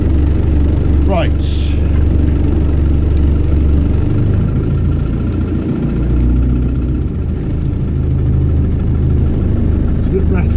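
A 1990 Range Rover engine idles cold with a rattly, low rumble that runs steadily throughout, loud and close, with some brief higher noises over it.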